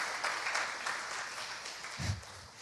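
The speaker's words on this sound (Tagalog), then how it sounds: "Sige nga po, isang malakas na palakpak po para kay Lord." Church congregation applauding during a worship service, a steady wash of clapping hands from many people that holds throughout, moderately loud and fairly close.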